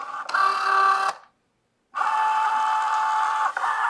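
Cricut Joy cutting machine drawing in its mat during loading, a close motorized whir that runs for about a second, pauses in silence, then resumes as a longer steady mechanical hum with a slight click near the end.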